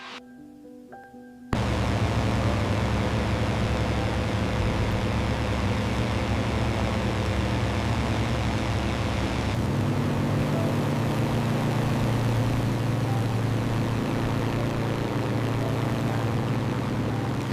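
A WWII P-51 Mustang's piston engine drones loudly and steadily in flight, a continuous propeller roar that kicks in after a brief quiet start and holds through to the end, with a slight shift in tone midway.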